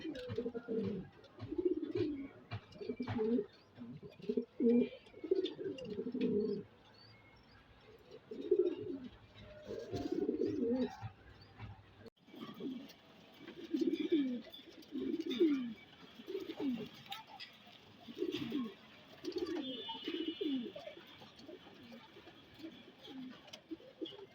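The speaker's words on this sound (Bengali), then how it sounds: "আমার দুইটা মাদি কবুতর রেস্টে রাখছি" Pigeons in a home loft coo repeatedly in soft, rhythmic bursts throughout, close and steady with faint chirps in the background.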